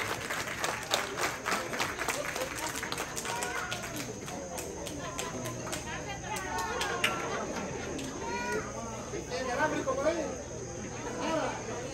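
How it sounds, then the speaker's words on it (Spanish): Applause at a quinceañera party: a crowd claps steadily and densely for the whole stretch, with voices and party noise mixed underneath. "El aplauso por mí."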